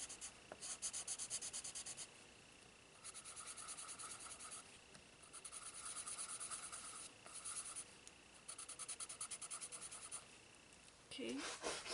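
Colored pencil blender rubbing across paper in a rainbow-themed coloring session, making soft repeated scratchy strokes in bursts with short pauses, fairly faint and close.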